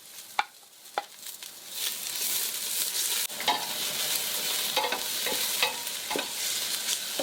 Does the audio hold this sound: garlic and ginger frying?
yes